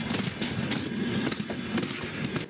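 Passenger train on the Pokrovsk–Kharkiv line rolling along at steady speed, a continuous loud rumble with rhythmic clickety-clack of wheels over rail joints and faint metallic squeal, heard up close with no talking.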